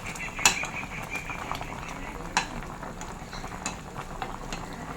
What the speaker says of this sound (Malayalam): നല്ലപോലെ ഒന്ന് മിക്സ് ചെയ്ത് കൊടുക്കാം.